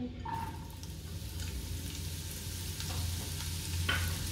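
Carrot pieces roast in hot oil for a Kabuli (Afghani) pulao, giving a steady, close sizzle and frying hiss that lasts the whole time, with faint stirring and scraping now and then.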